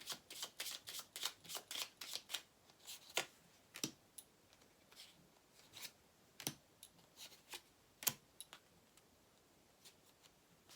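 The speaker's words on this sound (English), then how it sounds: "Lenormand card I'm taking." Lenormand cards being shuffled by hand, a run of crisp, rapid riffling bursts at first, then sparser single snaps and flicks, close and fairly quiet with no talking.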